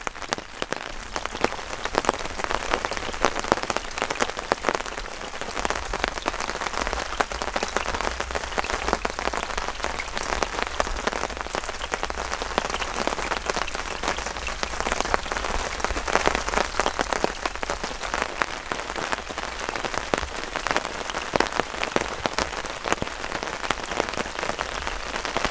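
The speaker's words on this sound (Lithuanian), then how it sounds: "Pyla, lietus, pys." Heavy rain pouring down outdoors during a fishing trip, a dense, steady roar of drops drumming on surfaces for the whole stretch.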